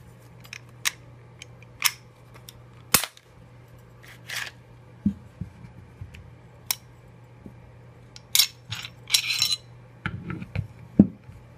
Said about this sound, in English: Break the Glock down first.